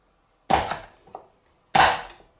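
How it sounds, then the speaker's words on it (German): A knife slices through a cucumber on a cutting board while vegetables are being prepared for fermenting in brine. Two sharp, close chops land about a second apart, each with a short crunchy tail, in a quiet room. "Die Gurke schneide ich mit so einem Messer"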